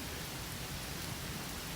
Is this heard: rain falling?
yes